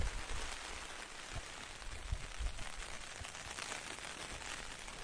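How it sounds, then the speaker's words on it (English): Heavy rain pours down in Snowdonia, a steady, dense hiss of drops drumming on a surface close by, constant throughout with occasional heavier thuds and no talking. "The rain is tipping down."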